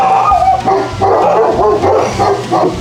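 Dogs bark and yip loudly up close, with whimpering mixed among the continuous, overlapping barks.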